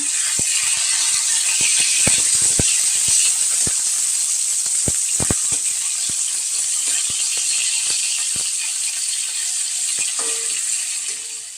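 Steady sizzling hiss of drumstick flowers frying in a pan, with scattered sharp crackles and pops throughout and no talking.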